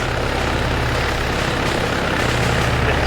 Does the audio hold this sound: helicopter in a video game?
yes